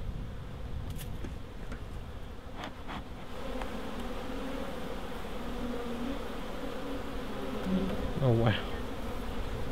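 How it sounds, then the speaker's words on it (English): A honey bee swarm buzzes inside a hive box, a dense, continuous hum heard close up, with a brief exclamation from a person partway through. "They've been very busy, this little swarm."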